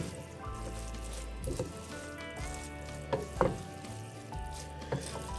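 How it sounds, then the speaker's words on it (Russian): Hot drained rice mixed with fried vegetables sizzles softly in a pan as it is stirred, with occasional light scrapes and clinks under quiet background music. "Рис готов, я его слила, и теперь заправляю нашей поджаркой. Все, перемешиваем, пока рис горячий."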